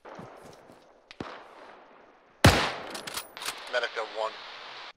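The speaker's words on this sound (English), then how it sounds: "I think they're shooting at us from the east." Enemy gunfire in a military video game, a few sharp shots including one loud nearby crack, followed by a cluster of further reports, with a voice talking briefly over them.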